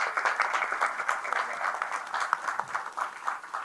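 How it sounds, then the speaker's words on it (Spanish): An audience at a literary panel discussion breaks into applause, with many hands clapping in a lively, uneven patter that rises and dips but holds across the whole stretch. "Palmas."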